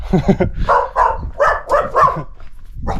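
A dog in the abandoned mountain village of Drave, Portugal, gives a handful of short, close barks in quick bursts, with brief pauses between them.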